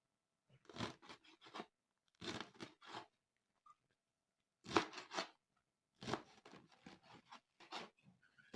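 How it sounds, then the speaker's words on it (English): A knife slices through uziza leaf vegetable into chunks, four separate bursts of crisp cutting and crunching close up, separated by short silences. "So I pick and slice the vegetable into bigger chunks."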